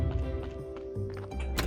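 A donkey's hooves clip-clop in the Graveyard Keeper video game, a short quick run of soft taps over background game music, ending in a brighter burst.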